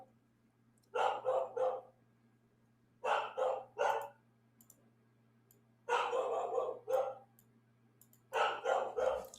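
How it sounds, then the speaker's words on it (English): A dog barks in four separate bursts of rapid, loud barks spaced a few seconds apart, close by indoors over a steady low electrical hum. "My dog's going nuts."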